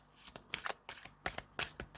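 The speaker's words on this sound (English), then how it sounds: "cards aren't wanting to go, so I'm going to give a shuffle." Tarot cards being shuffled up close, in quick papery riffling bursts of about half a second each, repeated roughly seven times with short pauses between them and no talking.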